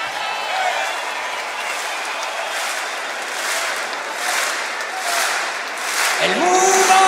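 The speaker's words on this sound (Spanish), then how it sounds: "necesitamos las palmas de toda la bola de cabrones" A concert crowd at a live show claps along steadily, a broad sustained wash of many hands with a soft rhythmic pulse, swelling slightly toward the end as a tone enters.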